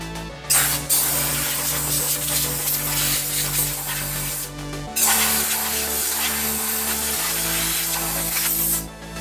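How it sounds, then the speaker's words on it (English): Sustained hissing spray bursts clean the radiator grill and cooler of a Solis 26 tractor, loud and steady with two short breaks between long passes. "Cleaning the radiator grill. Cleaning the cooler."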